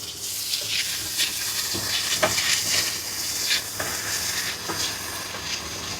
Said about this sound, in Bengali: এখন আমি এটাকে ভালো করে দুই মিনিট ভালো করে ভেজে নিব